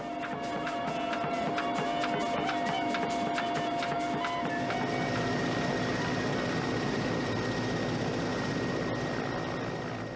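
An old Russian helicopter in flight, its engine and rotor giving a loud, steady drone with a dense mechanical hum that continues without a break.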